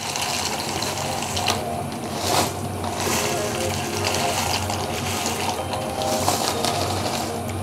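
Dried pasta going into a pot of water for boiling while making mac and cheese with chicken, a continuous loud watery rush and churning with a few soft clinks, no voices.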